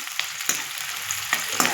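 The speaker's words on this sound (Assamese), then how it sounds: "দি দিছোঁ পিঁয়াজ ব্ৰাউন কালাৰ গল্ডেন কালাৰ হোৱাত লাগি মই ভাজি ল'ম" Onions frying in hot oil in a pan, a steady close sizzle with a few sharper crackles and stirring clinks scattered through it, no voices.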